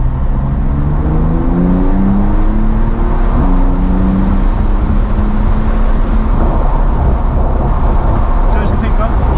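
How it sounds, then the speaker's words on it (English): Porsche 992 without sports exhaust, driven in sport mode, engine note climbing and settling as it revs, loud and close inside the cabin over constant road roar, with a voice talking alongside. "the engine noise does pick up there"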